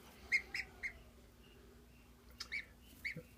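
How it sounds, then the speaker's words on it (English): A few soft honks and chirpy calls from large dewlap Toulouse geese, spaced out in two brief clusters against a quiet outdoor background. "two of our large dewlap Toulouse geese"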